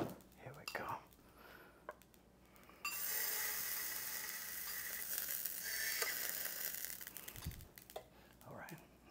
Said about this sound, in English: I'll sear it for you at the end there.